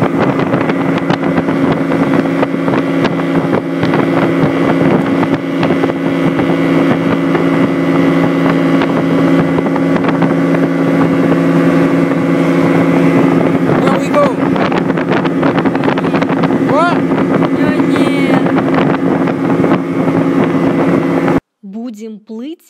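A motorboat travels along the winding Komo River in Gabon from Libreville, its engine a steady, droning hum with heavy wind buffeting across the microphone, cutting off abruptly near the end.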